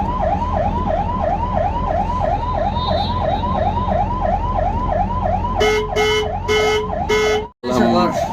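An escort vehicle's siren wails in a loud, steady rising-and-falling cycle on the road to Delhi during an India–Nepal bus trip, then switches to several sharp, choppy horn-like blasts near the end.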